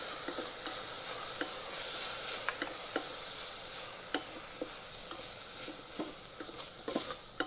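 Washed moong dal being stirred into sautéed onion in an Instant Pot, a continuous close sizzle with a spoon scraping and clinking against the pot in irregular strokes.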